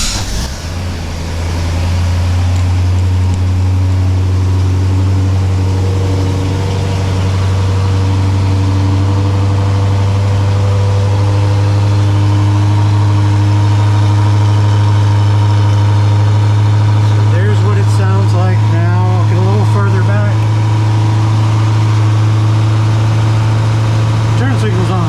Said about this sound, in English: let me start the car just so you can hear what it sounds like.